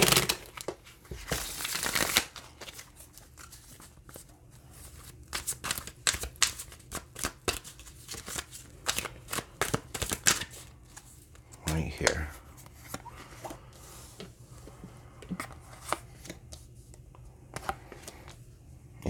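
Tarot cards shuffled by hand in repeated riffling, crisp bursts that run through most of the stretch, close and fairly soft with small pauses between handfuls.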